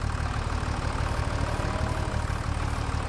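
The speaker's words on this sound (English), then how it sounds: "Okay, we'll take this tractor." A tractor engine idles in Farming Simulator 25, a steady low rumble that holds at constant loudness without revving.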